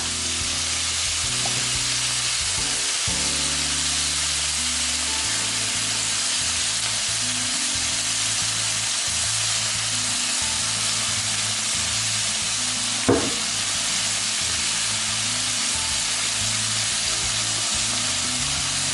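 Spicy shrimp with basil stir-frying in a pan, a loud, continuous close sizzle with rhythmic scraping of stirring throughout and one sharp knock midway.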